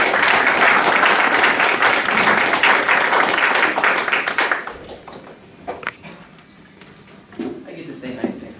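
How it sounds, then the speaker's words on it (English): At a city council meeting, a room of attendees applauds for about four seconds with brisk, fairly loud clapping, then it drops off abruptly, leaving scattered taps and faint room noise before quiet voices speak. "please give her a round of applause"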